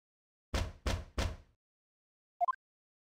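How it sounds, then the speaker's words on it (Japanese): Three firm, evenly spaced knocks on a door ring out close and loud in the Great Ace Attorney video game, followed after a pause by a quick trio of light, rising chime-like blips. "その朝、僕は電報配達人が扉を叩く、無遠慮な音で叩き起こされた。"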